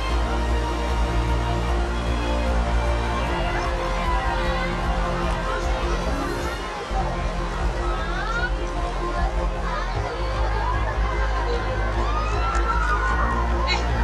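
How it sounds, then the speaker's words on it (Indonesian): Crowd of children cheering and shouting as they greet the Pope, a dense, loud, continuous roar of young voices with chatter mixed in throughout. "Riuh sorak-sorai anak-anak yang menyambut kedatangan Paus"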